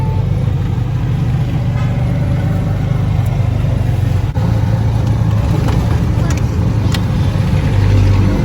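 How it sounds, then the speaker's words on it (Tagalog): A motorized tricycle passes along a road in La Union, Philippines, its engine a continuous loud rumble over general traffic, with people talking nearby throughout. "Ang bilis ng tricycle na."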